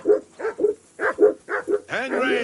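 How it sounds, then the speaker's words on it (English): A dog barks repeatedly in the medieval video game Kingdom Come, a quick series of close, loud woofs in uneven rhythm ending in a longer whining yelp. "Whistle at that mutt of yours to stop barking."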